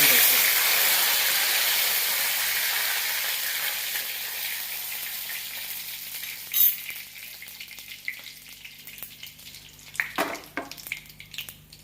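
Curry leaves with cardamom, two cloves and a small piece of cinnamon fry in hot oil. A loud, dense sizzle slowly fades, broken by a couple of sharp crackling bursts near the end.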